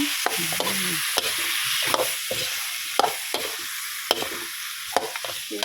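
Pork bones are stir-fried in a pan for a Thai curry, giving a steady bright sizzle with repeated scraping and knocking strokes as they are tossed, close and fairly loud.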